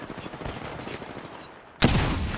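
A Kraber sniper rifle shot lands on an enemy in Apex Legends, one loud sharp crack that cuts in after muffled gunfire and game noise and rings out briefly.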